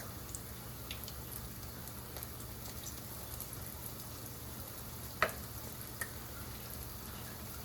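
Hush puppies frying in shallow grease in an ordinary skillet, a steady quiet sizzle with a few soft pops and crackles, no talking.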